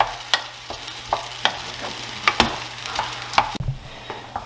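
Chickpeas and beans are stirred in a large pot, a spoon scraping and clacking against the metal in irregular sharp knocks over a soft background sizzle, close and fairly loud.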